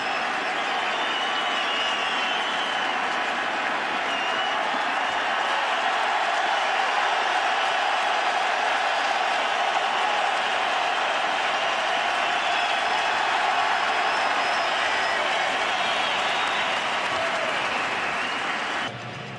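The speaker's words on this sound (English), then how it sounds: "And this crowd will let Andy Pettitte hear it" A packed stadium crowd at a World Series game applauds and cheers a departing pitcher, a dense, loud, continuous roar of clapping that holds steady for nearly twenty seconds.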